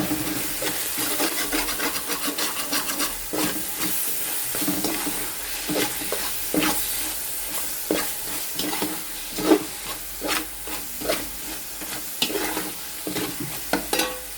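Jackfruit beef curry being stirred with pepper powder, a utensil scraping and knocking around the pan in an irregular, steady rhythm over a low sizzle, close and alone.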